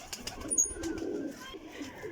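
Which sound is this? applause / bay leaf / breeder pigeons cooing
breeder pigeons cooing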